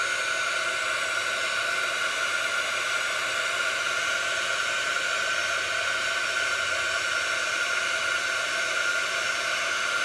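A heat tool blasts hot air onto shrink plastic, a steady, even hiss of blowing air with a constant whine, holding unbroken for the whole stretch with no talking.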